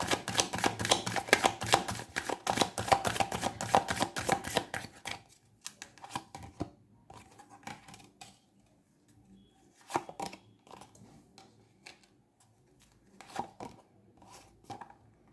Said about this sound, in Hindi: इस कार्ड को भी शफल कर ही लेते हैं